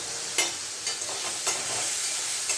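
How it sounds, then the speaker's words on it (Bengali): Turmeric powder sautéing with softened, melted tomatoes in a pan, a bright continuous sizzle broken by a few sharp scrapes of a spoon stirring, close and alone. "হলুদের গুঁড়োটা একটু কষিয়ে নেব।"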